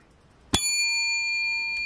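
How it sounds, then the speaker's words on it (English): One bright bell ding, the reveal sound from a scratch-off lottery ticket, struck once after a quiet moment and left ringing out clearly with a long, steady decay, no talk. "One single solitary bell."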